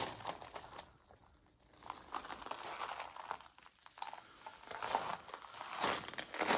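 Footsteps crunch and crackle over fine broken glass on the floor of an abandoned glass factory, an uneven scraping and grinding texture, close but fairly quiet.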